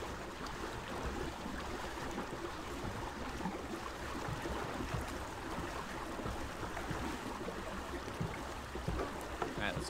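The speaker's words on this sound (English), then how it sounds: "We're over here riding the waves." Continuous wash of water and waves around a boat riding the sea in the Ark Survival Ascended video game, a soft, steady rushing noise with faint talk underneath.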